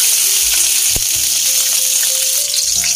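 Garlic hitting a little hot oil in a pan sizzles steadily and close for the whole stretch, a bright continuous crackle with faint clinks of a utensil underneath.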